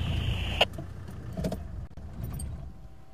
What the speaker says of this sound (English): Can you hear my car?